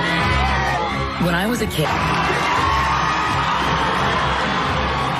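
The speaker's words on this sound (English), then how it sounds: "Tremendous crowd on hand here tonight in Berlin" A big arena crowd at WWE SmackDown in Berlin, Germany, cheering and yelling in a loud sustained roar beneath a commentator talking over it.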